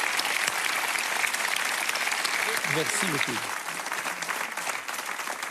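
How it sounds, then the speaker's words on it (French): An audience applauds an orchestra with dense, continuous clapping while someone briefly speaks over it midway; the applause carries on steadily to the end. "on les applaudit encore une fois"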